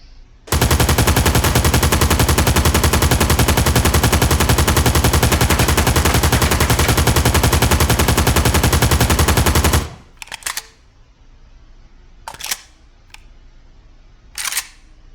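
An RPK machine gun fires one loud, unbroken extended burst for about nine seconds, then it goes quiet apart from a few short, scattered sharp sounds.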